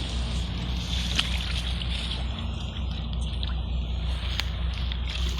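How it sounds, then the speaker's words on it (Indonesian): Steady flowing water in a stream running through a tunnel under a toll road, a continuous close broadband wash with low rumbling undertone and a few faint splashy clicks, no voices. "Ini ada aliran air yang ke sana"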